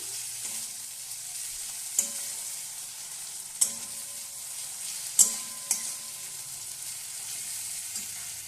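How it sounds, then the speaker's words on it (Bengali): Ginger paste and green chilli paste sauté in hot oil for a chicken curry, a steady close hiss broken by a few sharp scrapes and taps of a spatula against the pan, no voices. "কিছুটা আদা বাটা আর কিছুটা কাঁচা লঙ্কা বাটা এটাকেও ভালোভাবে কষিয়ে নিচ্ছি আমি"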